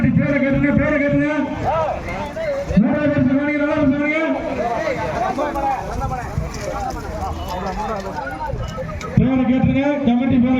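Bulls pound along in a bullock cart race in Idaiyathur, hooves and cart rumbling beneath a loud announcer and a noisy crowd.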